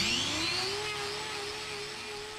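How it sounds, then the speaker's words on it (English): Power grinder thinning overgrown horn on a cow's hoof, a steady high whir with a slowly rising tone that holds level, loud and continuous with no talk. "I thin out the overburdening horn using the grinder"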